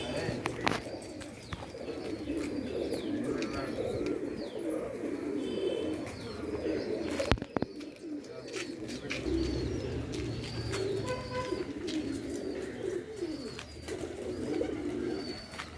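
Pigeons cooing in soft, repeated low calls amid a busy backdrop of other birds chirping, with a brief sharp knock partway through.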